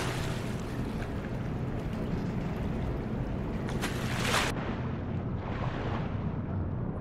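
Motor rail vehicle in a flooded area in the Black Mesa game, heard as a continuous loud rushing, watery roar with a brief hissing surge midway, then a slightly duller steady drone.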